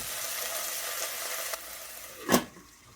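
Frozen, slightly iced pieces sizzle in a hot pan with a steady hiss and occasional spatter, swelling into one brief louder crackle near the end before settling.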